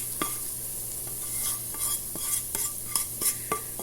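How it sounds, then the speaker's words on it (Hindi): Freshly made tempering goes into moong masoor dal and gets stirred, with soft sizzling and repeated scraping and clinking of a spoon against the pot at a close, moderate level. "हम ये बिगार जो है वो इसके अंदर डाल देंगे"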